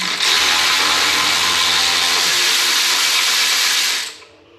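Power tool, likely an air tool, removing caliper bolts on a Saab 9-5 Aero during front wheel bearing work: one loud continuous hissing whir lasting about four seconds that cuts off abruptly.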